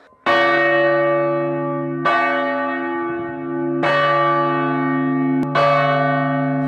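A church bell tolls four slow, loud strokes from the bell tower at the highest point of Sutera, each rich ringing note hanging and blending into the next.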